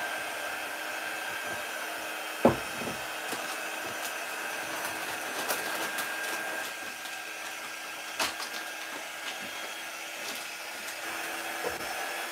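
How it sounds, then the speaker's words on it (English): A heat drying tool runs on a chalk transfer silk screen with a steady, fairly quiet whir, broken by a sharp thump and a few small clicks. "What do you think about the dry tool? I think it's really nice. It's not loud"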